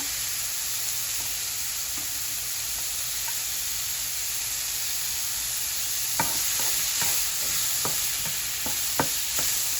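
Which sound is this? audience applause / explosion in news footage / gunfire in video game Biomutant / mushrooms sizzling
mushrooms sizzling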